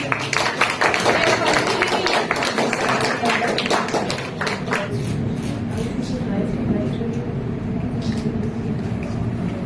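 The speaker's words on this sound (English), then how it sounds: "So a big round of applause for the team." Audience applause for a team at a college event, dense clapping from a crowd filling the room for several seconds before settling into a softer, steady patter.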